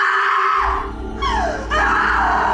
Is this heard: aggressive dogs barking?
no